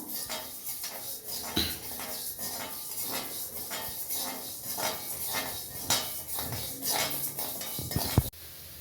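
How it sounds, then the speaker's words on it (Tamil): Moong dal dry-roasting in a pan, rhythmic scraping and clinking of a spoon against metal as the lentils are stirred, with a sharp knock near the end. "இப்போ இந்த பைத்தம்பருப்பை நான் வறுத்துக்கிடுறேன்"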